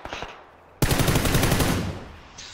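A rapid burst of automatic gunfire in a battle-royale video game, loud and close, firing continuously for about a second before trailing off, with a few lighter shots just before it.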